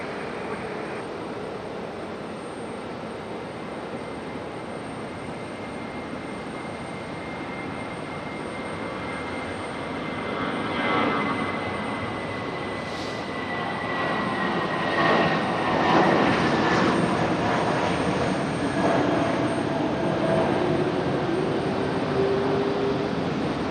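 An airliner, a JetBlue jet, takes off from runway 23 right at Raleigh-Durham airport with a broad, steady engine roar that builds gradually and stays loud and sustained throughout.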